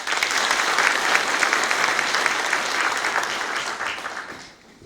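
An audience at a formal association ceremony claps steadily to welcome an introduced guest. The dense applause holds for about four seconds, then tapers off, with no talk over it.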